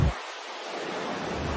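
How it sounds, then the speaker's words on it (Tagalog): Strong ocean waves on Entalula Island beach, El Nido, Palawan: a broad wash of surf noise that briefly drops after a burst, then builds again, close and loud with wind on the microphone. "Ayoko na dito, ang lakas ng alon."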